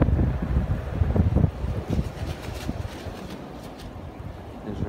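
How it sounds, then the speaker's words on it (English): Strong blizzard wind gusting through New York City streets in 22-degree cold, a loud continuous roar and buffeting against the microphone, heaviest in the opening seconds and then steadier. "So look at this wind."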